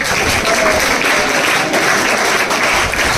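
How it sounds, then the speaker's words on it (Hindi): Audience applause at an award ceremony honouring newly selected Agniveer recruits, steady dense clapping from a crowd filling the whole stretch at constant loudness. "ताली बजा दे भाई।"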